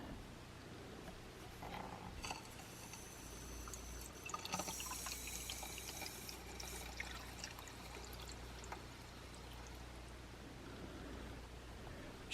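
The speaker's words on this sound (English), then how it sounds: "I'm going to slowly start turning on the water here" Water runs into a Rusco sediment trapper filter as a valve is slowly opened, a faint steady trickle and flow with occasional small splashes and handling clicks.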